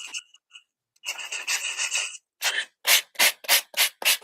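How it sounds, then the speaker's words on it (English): Rough rubbing strokes of sandpaper on the top of an embossed paper panel, first a few scattered scrapes, then a longer continuous rub, followed by a quick run of short rhythmic strokes, close up. "I'm sanding the top of my embossed panel to make it pop up white"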